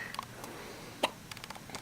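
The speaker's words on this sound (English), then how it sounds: "Certainly not the first hiccups." A baby girl hiccups once, a short, sharp burst near the middle, set against quiet room tone with faint small clicks and rustles around it.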